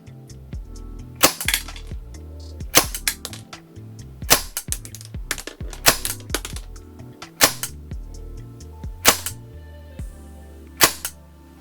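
Kingdom Technology Tec-9 green gas airsoft SMG fired in a series of sharp, loud, snappy single shots spaced about a second or two apart, with mechanical clatter between them and no talking.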